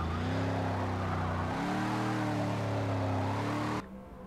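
A car driven steadily on a forest stage in an amateur rally event, its engine droning loud and close with a layered harmonic hum that shifts pitch midway, then drops abruptly to a quieter rumble at the end.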